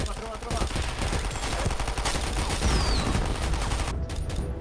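Rapid bursts of gunfire from the online shooter game Sudden Attack, loud and dense with overlapping shots rattling almost continuously before cutting off near the end.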